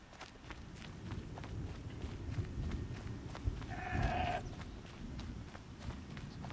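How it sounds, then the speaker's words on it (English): A goat bleats once in the video game Horizon Zero Dawn, a short, fairly faint call rising above a steady outdoor ambience with footsteps and rustling. "I heard a goat."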